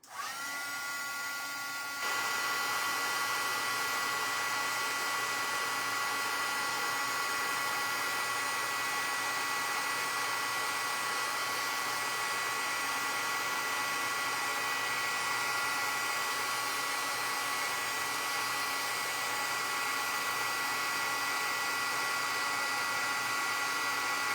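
Embossing heat tool blowing hot air over embossing powder on a handmade card, a steady loud whirring drone with a tonal whine that runs without pause after a brief start.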